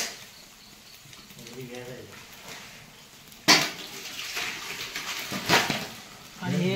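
Water is poured into a pot while chicken curry with rice and masala is being cooked, a sudden splashing gush followed by further pouring and clatter of the vessel, with people talking quietly underneath.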